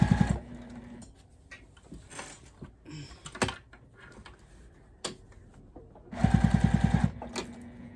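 A sewing machine back stitches the binding on a quilted table runner, giving a short, rapid burst of stitches near the end after quieter clicks and handling.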